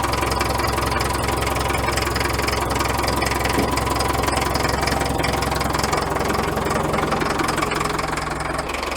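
An old Caterpillar loader's diesel engine idles after a cold start, a loud, continuous, close rumble with a rapid knocking clatter that stays steady throughout.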